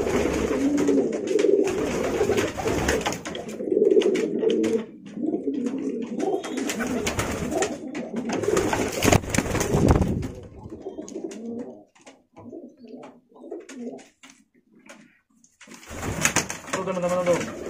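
Domestic pigeons cooing in courtship as a pair is matched, with repeated close, throaty coos in bursts and a few gaps of quieter shuffling.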